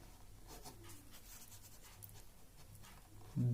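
Chalk or marker scratches across a board in short, faint strokes while a matrix equation is worked out, ending with a low bump.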